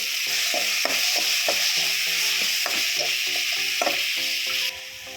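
Ginger garlic paste frying in a pan with a continuous sizzle, overlaid by repeated clinking scrapes of a spoon stirring against the metal in an irregular rhythm, close and fairly loud.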